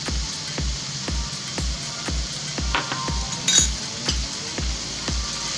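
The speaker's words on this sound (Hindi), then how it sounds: "इसे अच्छे से मिक्स कर लेंगे।" A spoon scrapes and clinks rhythmically against a pan while salt and turmeric are stirred into onions and tomatoes, regular taps roughly every half second over a soft sizzle.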